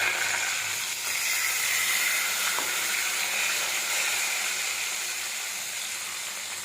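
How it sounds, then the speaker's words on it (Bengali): Boiled potatoes fry in oil in a wok, giving a steady broadband sizzle and hiss that stays fairly even throughout, with no voices over it. "এইভাবে সব আলুগুলো ভেজে নেব"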